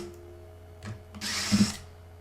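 Screws being backed out of the speaker mounts inside a MacBook Neo laptop during a teardown, heard as a short burst of close whirring from a small electric screwdriver with faint clicks, no talking.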